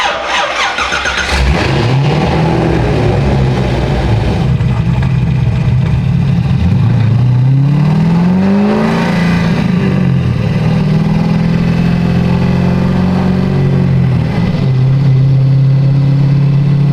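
A Corvette engine starts and runs loud and close, its pitch climbing and falling through several revs and gear changes during a test drive, with no talking.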